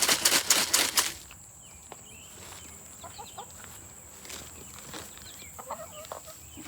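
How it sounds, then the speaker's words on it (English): Soft, scattered clucking from chickens nearby after a few loud rustling flaps at the start, with quiet outdoor background. "There's chickens that aren't supposed to be over here."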